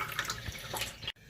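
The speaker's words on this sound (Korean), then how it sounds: "그럼 다시 한번 물을 상단까지 부어보도록 하겠습니다." Water pours steadily into the top tank of a 16-liter unpowered gravity water purifier, a continuous close splashing stream that cuts off abruptly near the end.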